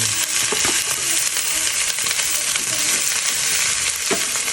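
Food sautés in a hot pan as a loud, steady sizzle that holds throughout, with occasional scrapes and knocks of a stirring utensil and no talking.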